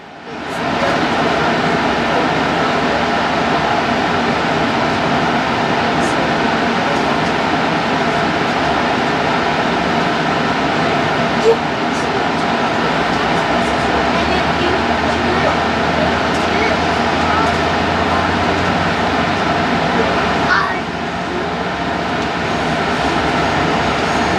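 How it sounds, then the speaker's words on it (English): Amtrak's northbound Texas Eagle rolls toward its Fort Worth stop with a steady loud rumble and broadband wheel and engine roar that holds evenly throughout, with a few faint clanks and squeals near the middle and end. "Amtrak's northbound Texas Eagle is seen approaching its Fort Worth stop."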